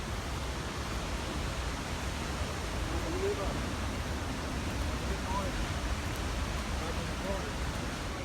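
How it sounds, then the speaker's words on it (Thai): A waterfall along a historical forest trail gives a continuous, even broadband roar of falling water, steady and fairly loud with no distinct events. "เป็นน้ำตก"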